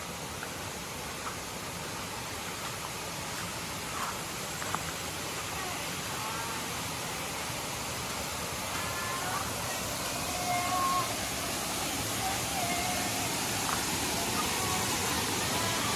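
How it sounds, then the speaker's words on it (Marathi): Steady broadband rush of a hidden waterfall in hilly forest near Mopa, constant and moderately loud throughout, with birds faintly audible and no talk. "धबधब्याचा आवाज येतोय आपण आता धबधब्याच्या अगदी जवळ पोचलेलो आहोत"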